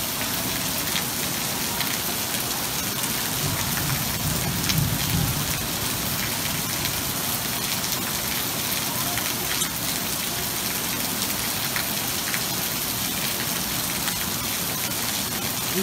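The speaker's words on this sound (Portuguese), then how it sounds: "Isso porque a chuva só começou, hein?" Heavy rain pouring onto a flooded street in a residential neighbourhood, a constant dense hiss and patter of water at close range that never lets up, with faint low rumbling underneath and no talk.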